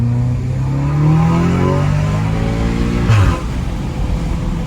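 An Audi S3 with a stage 2 tune accelerates hard from close range, its engine note climbing steadily toward redline before a sharp shift-like break and renewed pull, with wind noise from open windows.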